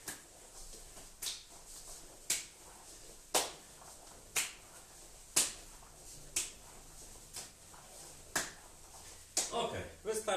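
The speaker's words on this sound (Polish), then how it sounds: "I klaszczemy łapki." Sharp, evenly spaced claps repeat about once per second, close and crisp, with a few quicker ones at the end.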